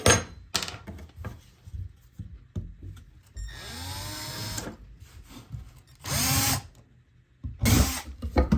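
A power drill bores holes in a homemade pickaroon, with several short bursts of whining drill motor separated by pauses, clunks and handling knocks, close and loud, no talking.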